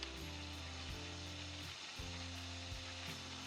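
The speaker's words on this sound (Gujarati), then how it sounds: "એક ચમચી રાઈ નાખીને આપણે ચટકવા દઈશું એમાં એક ચમચી આખું જીરું અને સફેદ તલ એડ કરી દઈશું" Mustard seeds, whole cumin and white sesame crackle and sizzle in a few spoonfuls of hot oil in a kadai, a soft continuous frying hiss with faint popping and stirring and no talk.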